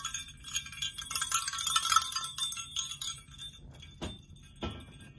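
A little decorative bell hung up among holiday decorations in a home, giving bright tinkling rings that fade, then two short sharp strikes near the end, with no talk.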